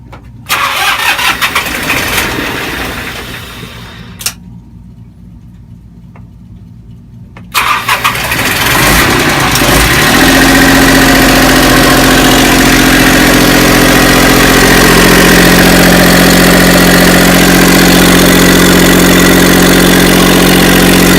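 A boat engine cranks, catches after a pause, then settles into a loud, steady idle with a constant low drone that runs to the end.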